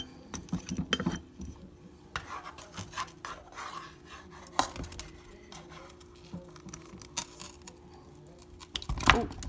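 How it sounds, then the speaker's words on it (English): Metal tongs lift slippery pork chops into a crock pot, giving soft scrapes, rubs and occasional sharp clacks in scattered bursts, with a louder knock near the end. "I'm just going to put them into my crock pot."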